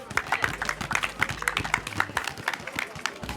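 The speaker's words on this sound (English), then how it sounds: "Clap him up." Scattered hand claps from people at a basketball drill ring out for a player, quick irregular smacks over a steady low hum, with voices talking throughout.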